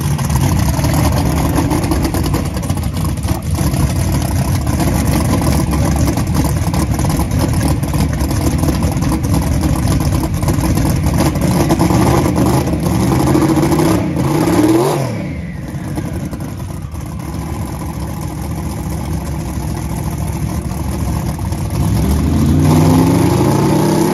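Pro275 drag race car making a full-throttle pass with heavy boost and high RPM, a loud sustained engine roar that sweeps and fades mid-run, then builds again toward the end.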